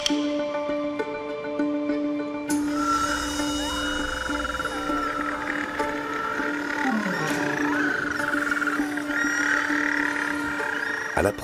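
Hundreds of male little penguins calling as they return to their colony on the Tasmanian coast, a dense chorus of braying, trumpeting cries that builds suddenly and carries on continuously, close and fairly loud.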